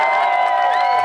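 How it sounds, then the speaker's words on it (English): A festival crowd at a pie eating contest cheers and claps for the winner, a dense, steady wash of voices and applause held up close for a short moment. "Round of applause for Ted."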